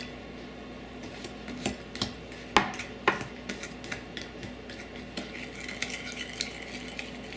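A spoon clinking against a bowl while liquid ingredients with soy sauce are mixed, a string of sharp, close taps and scrapes in an irregular rhythm, a couple of louder knocks early on, with no talk.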